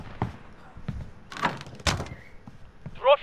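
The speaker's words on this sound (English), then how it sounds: "I think I just heard a door. That was me. I closed the door." A door closing in the video game Call of Duty: Warzone: a short, solid thunk stands out among scattered in-game noises and a few voices, with a brief bright tone near the end.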